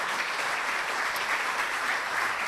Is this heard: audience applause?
yes